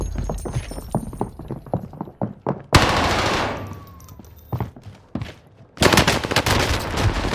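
Rapid bursts of gunfire in a video game firefight, sharp repeated shots in quick volleys with brief lulls, loud and close, including machine-gun-like fusillades.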